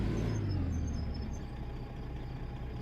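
A truck engine rumbles steadily in American Truck Simulator with the KRONE add-on, a low, continuous drone that runs throughout with a faint high whine above it and no talk.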